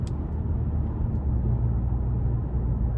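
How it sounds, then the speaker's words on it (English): A 2024 Toyota Camry XSE with a 2.5-liter four-cylinder engine, heard from inside while driving as a steady low exhaust drone and road rumble, constant and moderately loud with no change in pitch. "And this exhaust, I just now noticed it pulling out of that corner."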